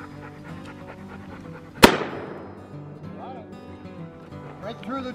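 A single sharp gunshot from an old childhood gun fired outdoors near trees, loud and close, with a ringing decay, surrounded by quiet background noise and distant voices.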